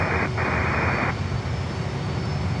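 Jet engines of a Cargojet Boeing 767 freighter at Miami airport give a loud, steady broadband roar, with a brighter hissing band that cuts out briefly and then fades after about a second.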